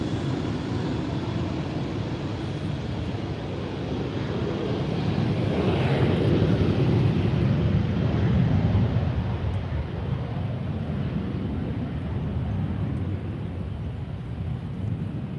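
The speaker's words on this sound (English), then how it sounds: "This jet has the flag of Canada on it, if I'm not mistaken." A jet airliner lands at Lisbon airport, its broad engine roar swelling to a peak midway and then easing into a steady distant rumble, with no voices.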